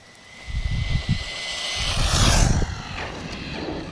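A DeeRc 1217 RC car at full throttle gives a loud, rising motor whine with a broad, rushing high-pitched sweep. Low rumbling thumps from the car running over the ground sit underneath, with no talk.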